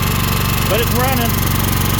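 Honda EX1000 portable generator running rough on bad gas, a steady close engine drone with a rapid low pulsing throughout, while a person talks over it.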